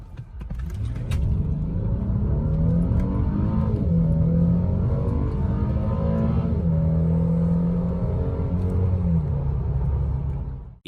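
A Mercedes W212 sedan accelerating hard from 0 to 100 km/h, its engine note climbing through several gear shifts, loud and close for about ten seconds with no talking.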